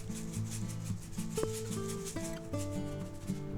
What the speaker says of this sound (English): we're going to go ahead and put a little coarse kosher salt on there